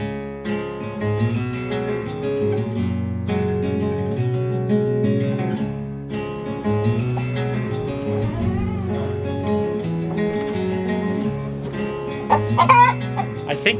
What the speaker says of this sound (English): I think this old hen just laid an egg.